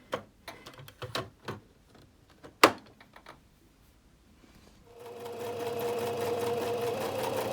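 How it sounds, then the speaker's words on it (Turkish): A home sewing machine embroidering with a darning foot, first with scattered clicks and knocks as it is set up, then a steady close, continuous mechanical whir and hum of stitching for the last few seconds. "şu anda kapitün ayağıyla annem nakış yapmaya başladı"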